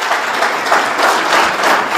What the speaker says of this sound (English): Can we give another round of applause to NAMRA?